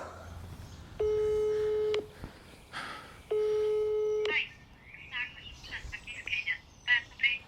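Two steady, one-second telephone tones sound while a poison hotline is called, each a clean buzzing beep, followed by chirpy, squawking sounds and brief voices.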